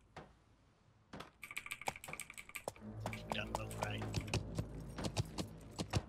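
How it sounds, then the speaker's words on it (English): Rapid clicking keystrokes on a computer keyboard typing a console shortcut during a game, close and crisp over a low background hum, with brief speech partway through. "the way you open up the console is by typing in Control-tilde"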